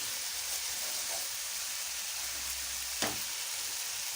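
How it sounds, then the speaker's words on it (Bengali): Spice paste sautéing in oil for a Bengali fish curry gives a steady close sizzle throughout, with one sharp utensil scrape near the end and no talking. "মশলাটাকে কষিয়ে নিচ্ছি।"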